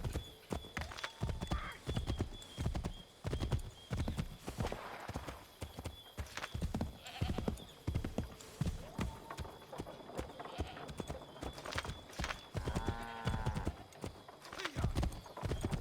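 Horses clip-clopping at a gallop with riders aboard in a video game, hoofbeats running steadily throughout, with an occasional whinny and characters speaking over the hooves.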